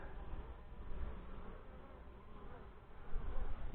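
Honey bees buzz in a continuous dense drone during an August inspection of backyard hives, close and steady throughout, swelling slightly louder toward the end, with no talking.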